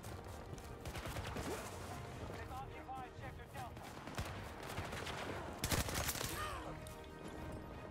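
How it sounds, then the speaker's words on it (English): Computer-controlled soldiers firing in the shooter Battlefield 2042, a faint crackle of distant gunfire bursts beneath game voices and chatter, with a sharper burst of shots near the end. "The AI is shooting somebody."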